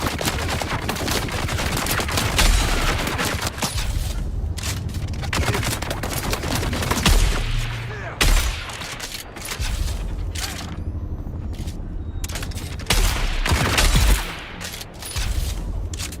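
Sustained gunfire from Dune Awakening, dense overlapping shots and bursts running almost continuously at close range, with a few brief lulls between volleys.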